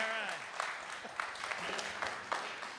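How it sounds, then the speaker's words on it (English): Audience applause at an amateur radio forum for the Wisconsin section manager, steady clapping throughout with a voice briefly audible at the start. "I always appreciate the applause before I start speaking"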